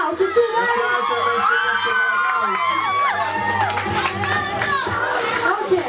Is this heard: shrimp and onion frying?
no